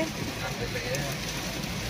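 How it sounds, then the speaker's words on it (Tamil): Heavy rain falls outdoors during a shopping trip, a dense, even hiss of downpour throughout, with voices faintly present beneath it. "நல்ல மழை பெய்யுது."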